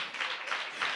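A church congregation claps their hands together, a short burst of brisk, overlapping hand claps from a crowd of worshippers, fairly close and loud.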